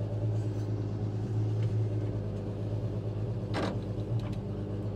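An International Harvester A120 pickup engine, after sitting for 30 years, rumbles close by in first gear with a deep, throbbing drone, steady and loud, with a brief rattle partway through.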